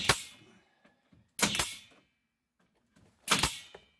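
Three sharp, close pops of an air-tank-powered brad nailer driving nails into wooden slats, spaced about two seconds apart, each with a short hissing tail.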